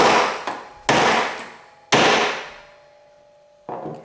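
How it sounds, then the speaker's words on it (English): Three sharp metallic strikes of a brass hammer on a disc cutter, spaced apart, each ringing briefly before fading, loud and close with no talking. "take my mallet, or in this case, my brass hammer, make certain my hands are clear of the striking area"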